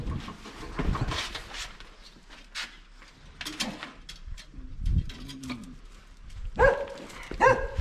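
A dog on a farm during potato planting lets out a few sharp barks near the end, close and loud over rustling outdoor background noise.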